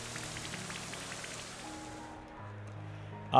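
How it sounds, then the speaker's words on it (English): Steady rain from the Rain Dance move in a Pokémon video game, a continuous even wash of falling drops heard alone, fading slightly before a sharp sound at the very end. "So we're going to click Hurricane and Rain Dance."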